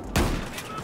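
A single loud, close shot from a sniper shotgun in Battlefield 4, a sharp crack followed by a ringing, decaying tail.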